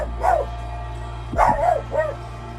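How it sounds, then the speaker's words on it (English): A pet dog barks indoors, three sharp barks spaced over a couple of seconds, fairly close and loud over a steady low hum, with no one talking. "my dog acting up too."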